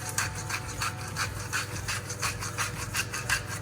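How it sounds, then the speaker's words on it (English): Salt rubbed by hand into the scored skin grooves of a pork roast, a close, rhythmic gritty scrubbing repeated in quick strokes, with no voices. "And then you just want to rub the salt in, like so, into the grooves."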